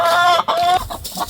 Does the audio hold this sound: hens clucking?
yes